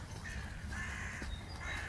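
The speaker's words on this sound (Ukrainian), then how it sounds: "птахи сьогодні розкричалися" Crows cawing loudly on a frosty October morning in Kharkiv's Saltivka district, several harsh repeated caws in quick succession over a constant outdoor background hum.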